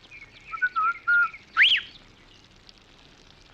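A man whistles a short tune in a few brief bright phrases, then a quick rising whistled swoop, alone against faint background ambience with no talking.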